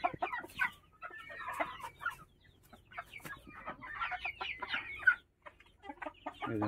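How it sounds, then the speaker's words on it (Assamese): Local chickens on a small farm cluck in short, uneven bursts at close range, several birds overlapping with brief quiet gaps between calls. "এজনী কণী পাৰিবৰ কাৰণে সজাত আহিছিলে"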